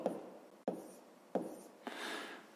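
A pen scratches out a maths answer on paper in a few short, separate strokes, close and fairly quiet, with a longer soft scribble at the end.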